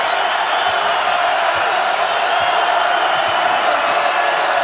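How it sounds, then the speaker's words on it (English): Basketball crowd in a Mountain West Conference game erupting after a shot ties the score, a loud sustained roar of cheers and whoops with scattered clapping, continuous for several seconds. "now the score is tied, and the crowd's back in it."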